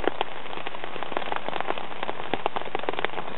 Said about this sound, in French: Et c'est de la folie là, ce qui pleut là.